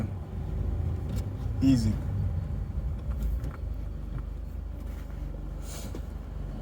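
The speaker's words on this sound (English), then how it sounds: "Take your foot off the gas, press the clutch, second gear, and release it and start gassing." A manual transmission car shifts into second gear, its engine a low, steady drone with a brief surge in the middle, heard under a person's speech.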